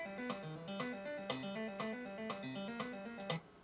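Software playback of a math rock guitar riff in 4/4, a clean, synthetic-sounding guitar picking a quick, repeating pattern of plucked notes, quiet and alone for about two measures.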